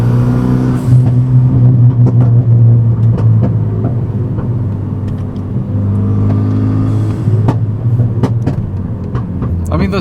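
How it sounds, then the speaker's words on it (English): Renault Megane RS engine droning steadily while driving, with sharp exhaust pops and crackles bursting out at irregular intervals over the low, loud rumble. "those pops and crackles are so aggressive"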